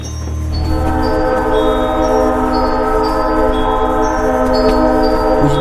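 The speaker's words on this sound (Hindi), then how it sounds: "देर बाद ट्रेन किसी नए रास्ते पर चलने लगती है।" A train running with a steady loud rumble and drone, while a horn sounds repeatedly in short stepped blasts above it, close and continuous, used as a sound effect in a haunted train horror story.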